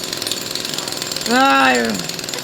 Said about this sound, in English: While we have a moment of respite from the jackhammers going off